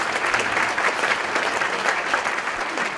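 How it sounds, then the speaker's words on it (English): Applause from a theater audience at a science lecture event, a dense, fairly loud burst of many hands clapping steadily across the short stretch with no speech. "You can applaud."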